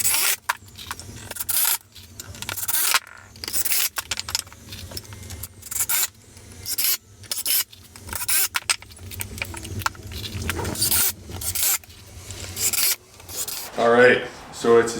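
Bursts of rasping, scratchy sanding strokes on a wooden step stool smooth away splinters, each stroke separated by brief pauses, close and fairly loud.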